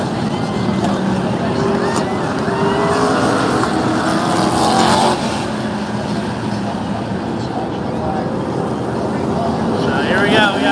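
NASCAR Truck Series trucks race at Bristol Motor Speedway during the UNOH 200, heard from the stands as a loud, steady roar of engines that swells past and stays dense throughout, with crowd and talk mixed underneath.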